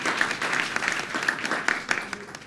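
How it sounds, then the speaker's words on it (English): An audience applauds a guest speaker at a book talk with steady, moderate clapping from a modest crowd, heard at a slight distance, with a faint voice underneath. "So please give another round of applause to Amy."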